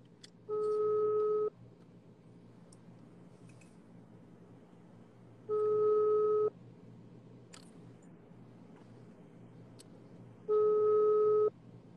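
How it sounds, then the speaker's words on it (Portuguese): A telephone ringback tone sounds in three evenly spaced one-second beeps, about five seconds apart, while the call goes unanswered over a low background murmur. "Tá chamando o telefone."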